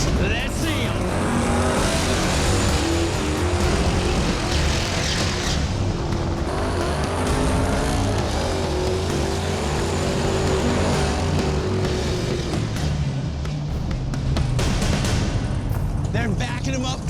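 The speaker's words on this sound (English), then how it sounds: "You love the burnouts. Let's see them." Drag race cars roar continuously through burnouts at a grudge race for steel-body street cars, with engine noise and tire squeal filling the air under constant talk.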